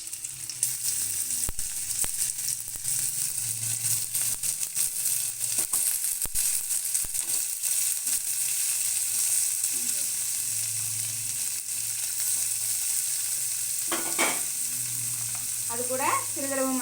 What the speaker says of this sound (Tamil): முதல்ல நம்ம க்யூபாக கட் பண்ணி வச்சுருந்த இந்த பன்னீரை போட்டு